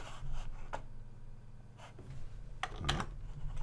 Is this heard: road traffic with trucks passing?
no